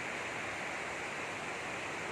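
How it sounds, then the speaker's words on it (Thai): Khlong Lan waterfall in Kamphaeng Phet, Thailand, a steady, dense roar of falling water that stays even and close throughout, with no voices. "น้ำตกคลองลานกำแพงเพชร ซึ่งสวยงามมากนะครับ"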